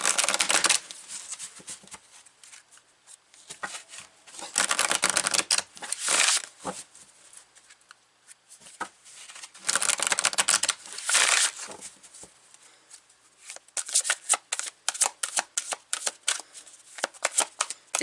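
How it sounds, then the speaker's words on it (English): Tarot cards being shuffled by hand in repeated bursts of crisp riffling and flicking, close and clear, separated by brief quiet gaps, with no talking over them. "I'm going to right away pull some cards"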